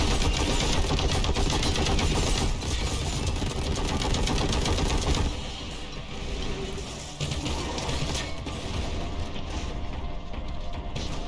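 A vengeance launcher in a video game fires without a break, a dense, loud, unbroken rattle of gunfire and impacts that dips slightly partway through, with no talking.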